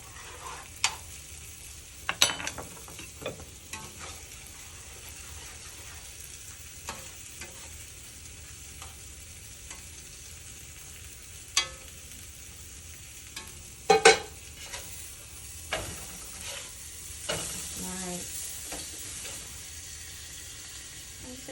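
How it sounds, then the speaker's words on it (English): Butter melting and frying in a pan with pork chops, giving a low steady sizzle broken by occasional clanks and scraping stirs, close and alone. "See how that butter's melting in there?"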